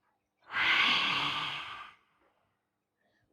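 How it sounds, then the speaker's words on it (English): A single long, forceful exhale pushed out through the open mouth with the tongue extended, a yoga lion's breath, breathy and close, rising quickly and fading after about a second and a half, alone with no talk. "Then tongue out, let it out through the mouth."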